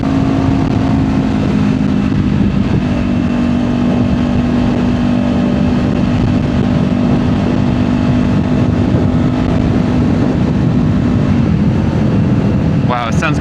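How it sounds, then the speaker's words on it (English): A Kawasaki Z500 motorcycle engine with an aftermarket exhaust drones steadily nearby with a raspy exhaust tone, holding a constant pitch for the whole stretch. "Wow, it sounds good with the exhaust."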